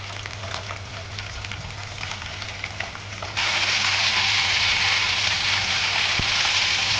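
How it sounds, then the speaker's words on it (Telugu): Thin, long-cut ivy gourd slices frying in hot oil, a steady loud sizzle that grows stronger and denser halfway through, with no talking. "మనం ముందుగా కట్ చేసి పెట్టుకున్న దొండకాయ ముక్కలు ఈ ఆయిల్లో వేసి ఫ్రై చేసుకోవాలండి"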